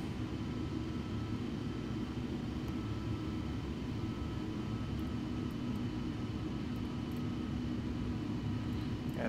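A Boeing 737-800 in UPS livery in Flight Simulator X, departing Doha, with a steady, loud, broadband engine roar and rumble that holds constant throughout, with no speech over it.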